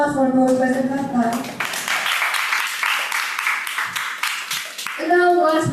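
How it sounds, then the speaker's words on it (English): An audience applauds at an awards-style event, a dense burst of clapping lasting a few seconds between stretches of tonal sound at the start and end. "Please give a round of applause for President Nata."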